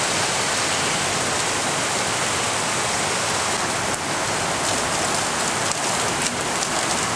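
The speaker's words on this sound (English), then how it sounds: "we've still got more rain. Rain, more rain." Heavy storm rain pours down steadily, a dense, loud, unbroken roar of water with overflowing pipes and water tanks, and no voices.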